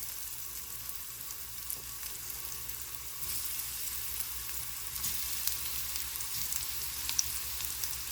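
Jackfruit pieces frying in hot oil, a steady dense sizzle that swells a little partway through, close by and continuous, with no voices.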